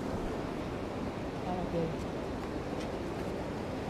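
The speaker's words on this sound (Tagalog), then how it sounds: "Kita nyo yung nagngangalit na tubig, oh." Churning river water at a gold-panning spot rushes in a dense, steady roar, with a voice speaking briefly over it.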